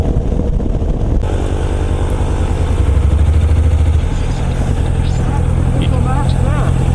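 A Honda NC750X motorcycle cruising along the M15 highway in Malaysia, its engine droning steadily with a low, continuous rumble and heavy wind noise throughout, loud and close.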